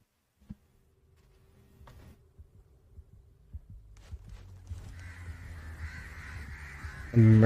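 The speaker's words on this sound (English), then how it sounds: "Murder of crows." Crows cawing in a murder, a few scattered calls over a low throbbing, heartbeat-like pulse and rising ambient hum, ending in a loud burst.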